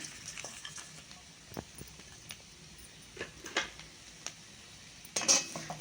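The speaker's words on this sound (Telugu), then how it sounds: "బాగా కలుపుకుందాం." Jaggery stirred into cooked grated carrot in a pan, with soft scraping and occasional light clinks of a spoon against metal over a faint sizzle, ending in a louder scrape.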